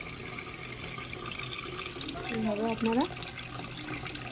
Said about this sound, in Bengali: চালটা ধুয়ে নিলাম।